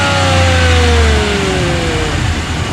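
A Ram 1500 pickup's 5.7L Hemi V8, fitted with a K&N cold air intake, revs up hard once, then its pitch sweeps back down toward idle, loud and close with no talking.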